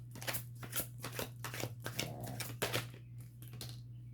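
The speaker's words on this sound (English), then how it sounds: "I keep shuffling the cards" Tarot cards being shuffled by hand, a rapid series of crisp riffling snaps and flutters in bursts, close and fairly quiet over a steady low electrical hum.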